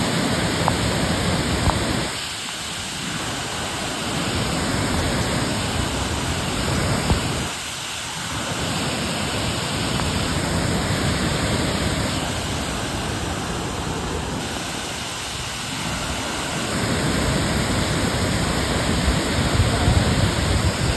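Kadambi waterfall, a full 30 to 40 foot cascade in the Kudremukh national park forest, roars as a steady broadband rush of falling water. The sound is continuous and loud, with slight dips in intensity, and no voices are heard.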